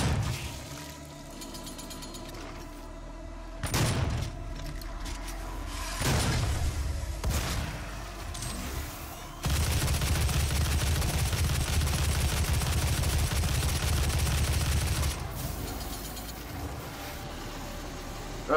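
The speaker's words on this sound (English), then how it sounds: "Old school shotgun works great for him." An old school shotgun fires in the video game Doom: a few heavy, separated blasts come first, then a dense, sustained stretch of loud gunfire and action noise that eases off toward the end.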